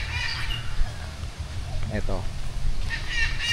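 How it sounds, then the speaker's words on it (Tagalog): Birds at a bird farm, including Moluccan cockatoos, give short honking and squawking calls at moderate distance over steady low background rumble, with someone speaking throughout. "yung mga ibon na sinasabi ko sa inyo."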